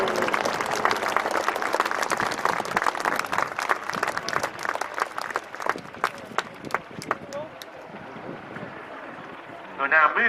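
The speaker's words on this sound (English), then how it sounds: "A big round of applause for our troops." Outdoor crowd applause for troops at the Yeovilton Airday 2018 air show, dense clapping strongest early then thinning out, with wind buffeting the microphone and an announcer speaking over it.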